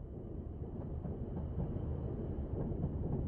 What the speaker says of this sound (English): I hear the train.